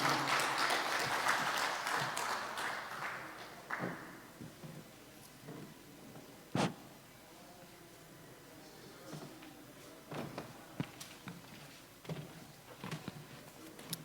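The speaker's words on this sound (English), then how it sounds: "Round of applause as she makes her way to the podium." An audience at a bank's small-business clinic and trade show applauds as a presenter walks to the podium. The clapping is full at first, fades over several seconds, and leaves a few scattered claps and thumps in a quiet hall.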